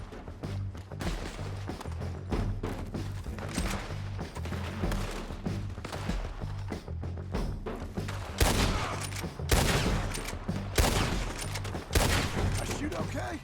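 Red Dead Redemption 2 shootout with repeated loud, ragged bursts of gunfire, some close and punchy and others overlapping into volleys, over a low rumbling score and scattered shouting.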